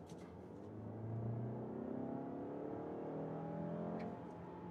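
A Mazda CX-5 with a 2.5-liter naturally aspirated four-cylinder mild hybrid engine accelerating hard, heard from inside the car as a rising engine drone that climbs steadily in pitch, moderately loud with no talking.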